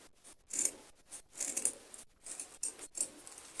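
Scissors cut fabric for a turban cap in a series of sharp, close snips and slides with brief pauses between them.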